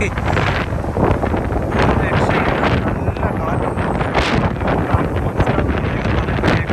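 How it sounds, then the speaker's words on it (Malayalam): Strong wind buffets the microphone at a bus stop in the USA with a steady, loud rumble and gusting roar throughout, with faint voices underneath. "നല്ല കാറ്റുണ്ട്"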